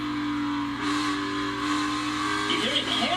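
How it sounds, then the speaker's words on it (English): A NASCAR Cup race car engine held at full throttle, a loud sustained mid-range roar with tire squeal rising near the end, under a crowd-like wash of noise. "You hear him hammering that throttle, trying to get the car to turn"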